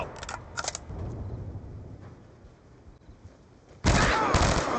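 Gunfire in Black Ops II crackles in short bursts at the start, then a loud close volley erupts near the end amid battlefield noise.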